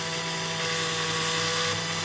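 A drill spins a diecast Dinky Toys Saab 96 part during restoration, giving a steady, close, high-pitched whine with a low hum underneath that runs unbroken for the whole two seconds with no talking.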